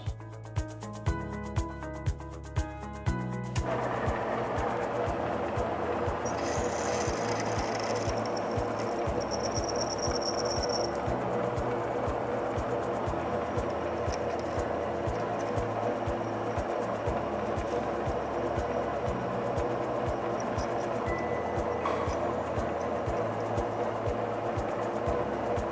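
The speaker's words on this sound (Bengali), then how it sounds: "ড্রিল আস্তে আস্তে ভেতর দিকে যাচ্ছে।" A lathe drilling a hole straight through a metal workpiece, the bit fed slowly inward. It gives a steady mechanical whir and grinding hum throughout, with a few sharp knocks at the start and a brief higher whine partway through.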